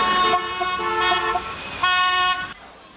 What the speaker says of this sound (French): les klaxons sont au rendez-vous